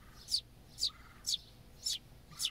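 A house sparrow sings in a steady series of five sharp, bright chirps spaced about half a second apart, fairly close and clear over quiet background.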